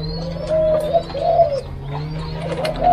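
Spotted doves kept in a breeding farm coo repeatedly, close and loud. Their soft, rounded call phrases repeat in a steady rhythm over a low background hum, with faint chirps from other birds.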